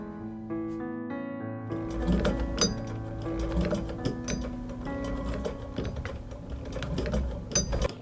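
A sewing machine runs steadily with rapid mechanical ticking and clatter, set against a sustained musical backdrop that swells after a quiet opening.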